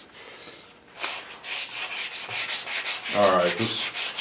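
Steady back-and-forth hand sanding of an English walnut gunstock with 120-grit paper: a brisk, even rhythm of rasping strokes, close up, with a brief word spoken partway through.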